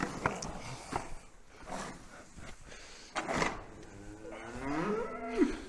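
Highland steers fed in winter moo loudly nearby, with several drawn-out calls and a rising groan near the end over rustling barn noise.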